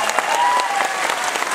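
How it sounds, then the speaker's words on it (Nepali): Audience applause at a Nepali music evening, a hall full of people clapping loudly and steadily in a dense, close burst with no break. "एकचोटि ताली बजाएर आशीर्वाद दिनुस् सबैजना"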